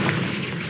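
A Confringo fire spell blasts in Hogwarts Legacy, a dense, roaring burst of fiery explosion that fills the moment loudly and evenly for under a second.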